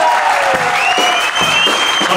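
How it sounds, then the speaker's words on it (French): A live concert audience bursts into dense, sustained applause that fills the clip, loud and close, with a faint sung or spoken voice over it. "je voudrais qu'on fasse un tonnerre d'applaudissements"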